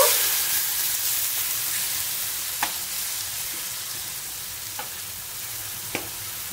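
Onion paste frying in hot oil after cumin and bay leaf, a steady soft sizzle and hiss running throughout, with a few faint clicks of stirring scattered across it, fairly quiet and with no one talking.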